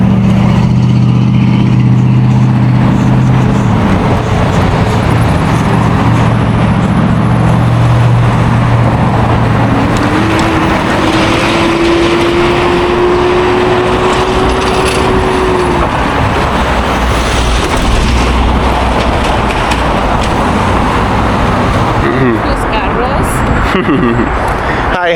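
Steady, loud traffic fills a hot city street as cars and other vehicles pass close by, with an engine drone running throughout and a rising tone near the middle. People talk over the traffic.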